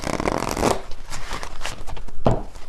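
Tarot message cards riffled and shuffled by hand close up, a dense flutter of papery clicks and snaps across a few seconds, with no talking.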